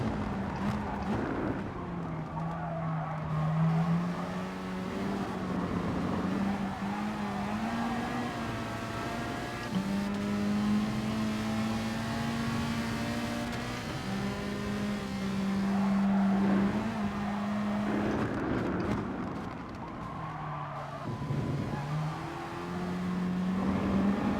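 Racing car engine in the Gran Turismo Sport video game, revving loudly and continuously as it climbs through gears, with repeated pitch rises and drops over a steady roar, no talk over it.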